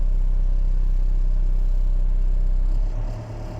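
A Hydrema 906c backhoe loader's diesel engine idles steadily with a deep, even rumble, heard close and alone, dropping and fading slightly near the end.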